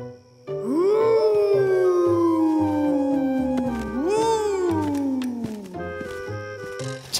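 A cartoon cat gives long, loud, wavering meows and howls that rise and slide downward, set against a camping scene with soft background sounds.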